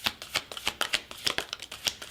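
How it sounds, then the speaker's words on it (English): An astro oracle card deck is shuffled by hand, giving a quick series of crisp, papery riffles and taps in an uneven rhythm, close and fairly quiet. "One more shuffle."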